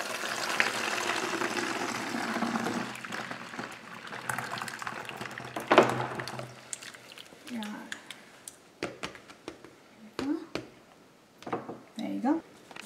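Liquid bathroom cleaner with essential oils pours into a medium-sized spouted bowl, a steady splashing wash that thins into scattered trickles and drips, with a person talking over it.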